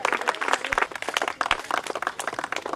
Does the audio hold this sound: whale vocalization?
no